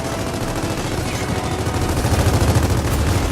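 Steady rapid gunfire from a video game as players shoot at a crystallized boss's exposed core, a dense continuous rattle of shots that grows slightly louder toward the end.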